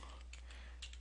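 Quiet keystrokes on a computer keyboard, a handful of soft, irregular taps over a low steady hum.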